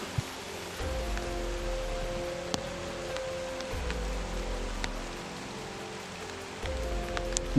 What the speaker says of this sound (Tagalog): Sobrang lakas talaga yung ulan mga idol.